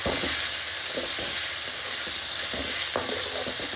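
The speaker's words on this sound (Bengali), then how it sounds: "সমস্ত কিছু ভালো করে আবার একটু কষাবো" Chopped tomato, salt and spices are sautéed in a pan for a fish curry, a steady hiss of frying with soft rhythmic stirring scrapes and one sharper clink, with no talking.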